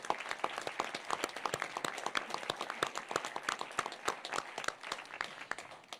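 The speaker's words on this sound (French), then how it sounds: "on applaudit" Audience applause at a ceremony, many distinct claps in a brisk, continuous patter from a modest crowd, clear and unaccompanied by speech.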